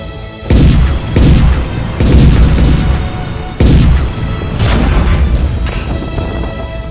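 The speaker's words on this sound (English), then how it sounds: "Tank units." Military tank units firing, a series of heavy, loud booms about a second apart, each with a long rumbling tail, followed by a sustained roar.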